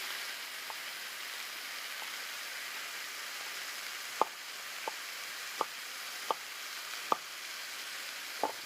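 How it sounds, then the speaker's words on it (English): A kitchen knife chops bunched vegetables into small pieces on a board, giving a short run of crisp, evenly spaced taps over a quiet background hiss. "then we'll bunch them together, and then we'll cut them into little pieces"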